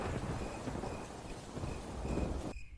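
Heavy monsoon rain pours in a dense, loud hiss with low thunder rumbling underneath, as a sound effect for a Hindi horror story; it cuts off sharply near the end.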